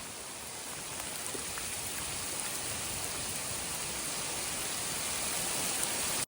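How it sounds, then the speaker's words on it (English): Heavy rain during a thunderstorm at a wilderness canoe campsite near Knife Lake, a dense steady hiss of drops hitting surfaces, even and unbroken throughout. "the rain is hitting."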